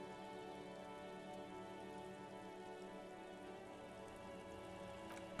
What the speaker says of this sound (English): A yard, rain falls onto the roof of a woodshed